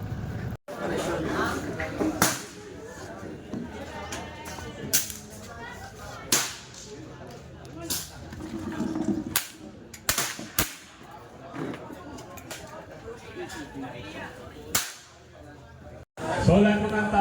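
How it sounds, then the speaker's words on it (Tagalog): Air guns fire at an air gun competition, with sharp, loud cracks and pops at irregular intervals over steady crowd chatter and people talking nearby. "Ang dami na, pumuputok na."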